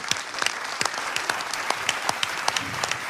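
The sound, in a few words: applause for Pak Rohim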